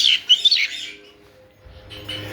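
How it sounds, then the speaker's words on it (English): Several birds squawk and screech harshly in quick bursts, close by, followed by a short lull and then more agitated calls. "Yep, that's unhappy birds."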